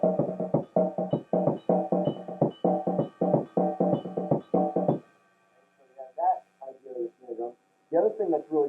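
A snare drum with its snares switched off plays a Latin-style beat, dry and tom-like, in a steady driving rhythm for about five seconds, after which a few sparser hits and softer tapping follow.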